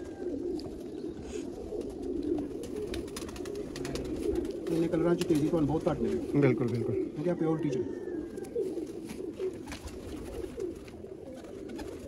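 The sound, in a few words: Sialkoti pigeons cooing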